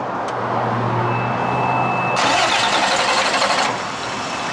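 5-ton truck diesel engine cranking on the starter while fuel lines are bled, a loud, close, rhythmic grinding churn with a sharper hissing burst mid-way, without firing up, no voices.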